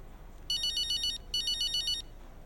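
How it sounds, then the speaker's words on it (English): A phone ringtone in the F1 25 racing video game, two short bursts of bright electronic trilling, loud and clear with a brief pause between them, over a faint low background. "I'm sure we're about to get interrupted by a phone call"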